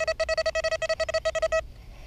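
XP Deus metal detector running the 4.0 update, sounding a rapid series of clear, high electronic beeps as it rings on a silver spoon find, about fifteen short pulses before stopping.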